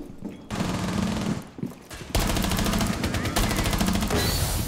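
Rapid automatic gunfire from the video game Rainbow Six Siege rattles in dense, loud bursts with brief pauses between them, close and sharp, with no speech.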